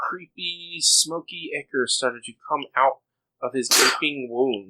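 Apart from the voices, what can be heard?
sneeze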